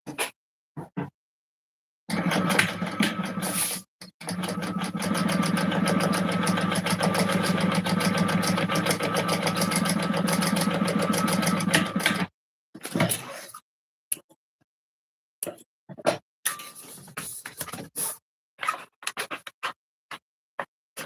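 A sewing machine runs a steady seam along the edge of a fabric wallet, one long continuous burst of several seconds, then stops and gives way to short scattered handling clicks and bumps with near silence between them.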